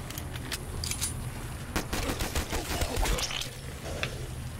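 Rapid bursts of gunfire in Call of Duty Black Ops 3 Zombies, a string of sharp cracks and clicks in the middle, at moderate loudness, with no speech over it.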